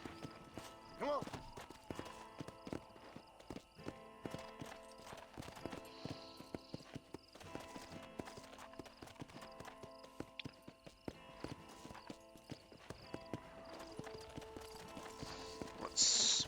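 Horse hooves clip-clopping in the Red Dead Redemption video game, a steady rhythmic trot over game music and ambience, with an occasional snort or whinny nearby.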